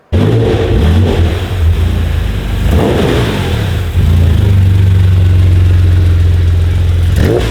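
Engine of a Porsche 959 replica revving hard while driving, a loud continuous mid-pitched roar that rises and falls through several gear changes with no talking.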